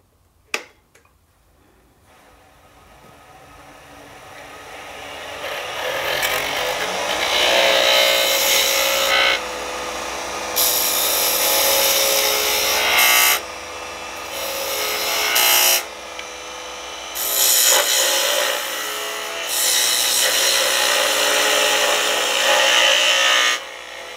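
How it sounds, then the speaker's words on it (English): A spindle gouge shapes the wooden head of a honey dipper spinning on a lathe, a loud close hissing scrape that builds up and comes in long cutting passes broken by brief pauses, with no talk. "we'll switch over to our spindle gouge to continue shaping the head."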